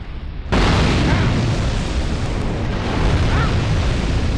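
After a brief quiet moment, a loud, sudden explosion bursts in Dark Souls 2 and rolls on as a sustained, roaring rumble.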